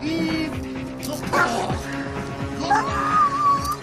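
A police dog barks and yips excitedly at close range, with repeated sharp barks and whining yelps over a busy background.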